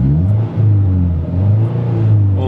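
A Ford Fusion with a new sports exhaust revs repeatedly with a deep, throaty rumble, rising and falling in pitch, heard close from inside the cabin with the windows closed.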